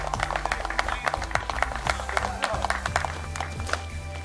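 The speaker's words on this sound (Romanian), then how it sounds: "aplauze pentru ei, locul întâi, Fly Fishing Dragon." A small group claps for the first-place winners at a fly fishing competition awards ceremony, with brisk, uneven hand claps mixed with cheerful talk and voices close by.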